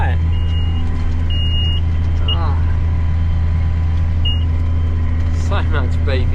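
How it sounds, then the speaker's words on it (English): A ute or nearby vehicle in a farm setting sounds repeated short high reversing beeps over a constant engine drone, with a voice speaking briefly. "So much beeping."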